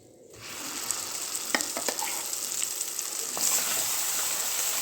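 Masala paste with red chilli powder, turmeric and kasuri methi frying in a pan for paneer kadai, a steady close hiss of sizzling with a few stirring scrapes, alone without talk.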